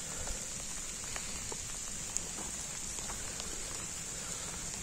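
Rain falls outdoors at a campsite by a burning fire, a soft steady patter of drops with occasional sharper taps on nearby surfaces and no voices.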